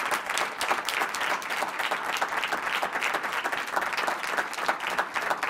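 An audience claps steadily for Google at a scholarship event, a dense, even patter of many hands that holds at a moderate level without a break.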